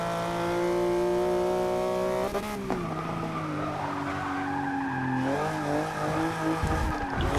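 A 2015 Porsche Cayman GTS in Forza 6 oversteering through turns, with long wavering tire squeals sliding in pitch over a steady engine drone, loud and close, dropping off into a throttle change at the end.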